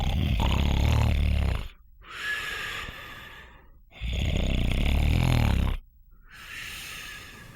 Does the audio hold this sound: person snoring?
yes